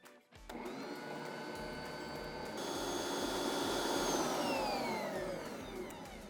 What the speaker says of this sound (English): now what we wanna do is beat them until they're about quadruple the size